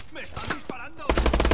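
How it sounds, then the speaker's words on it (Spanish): Rapid automatic gunfire in Call of Duty: Advanced Warfare bursts in loud and dense after a second of quieter game sounds, continuing as a fast rattling volley to the end. "Me están disparando."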